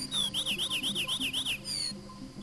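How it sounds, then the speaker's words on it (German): A shrill bird in the video game Breath of Fire IV calls in a rapid string of about six bright, warbling whistles, then one longer sliding note, loud and close over a low game background. "Dieser Vogel ist ja richtig schrill."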